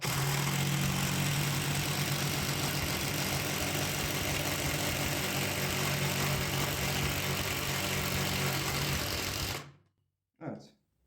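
A cordless drill or torque driver drives a thick 10 cm screw, a loud, steady close whine that runs for nearly ten seconds and then stops abruptly, followed by a brief clunk.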